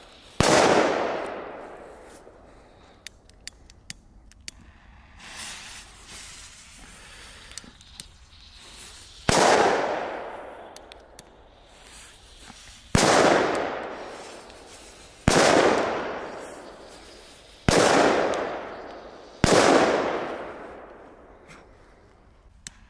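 Loud firecracker blasts go off one after another in Belgium, each a sharp bang with a long echoing decay, with smaller pops in between.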